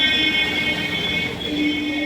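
A train stands close by at a lakeside amusement park station on a rainy day, giving off a steady, loud mechanical drone with high tonal whine that holds throughout.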